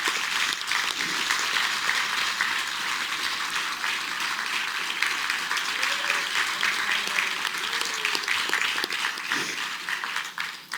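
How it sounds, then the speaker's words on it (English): Sustained, dense audience applause for a community advisory committee, steady and fairly loud for about ten seconds before tapering at the end, with faint voices murmuring beneath it. "just give them a round of applause"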